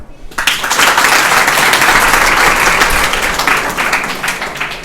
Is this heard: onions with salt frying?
no